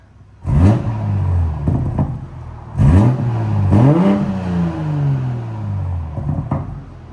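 A straight-piped 2019 BMW X7 with a 3.0L TwinPower inline-six revs hard in three loud bursts, each sharp blip rising then falling away with a throaty exhaust tail, close by with no talk.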